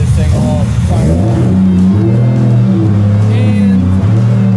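The engine of a 1000hp 2JZ-swapped BMW is being fired up on a dyno and holds a loud, rough idle with strong low harmonics. It blips up briefly toward the end, and faint voices sit underneath.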